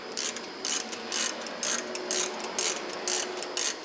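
Ratchet loosening a bolt on the rear wheel hub of a 2011 to 2014 Chrysler 200 3.6 V6, steady bursts of close, loud metallic clicking in even strokes, with no talking.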